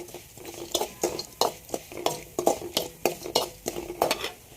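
Mutton masala gravy cooking in a pan over low flame, stirred with a metal spoon: regular scraping strokes and clinks against the pan, about two each second, over a soft continuous sizzle, close up and with no talking.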